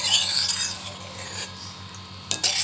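A spoon scrapes and rubs through thickened milk in a pan with the gas turned off, a close rasping stir repeating in uneven strokes, with a sharper scrape near the end.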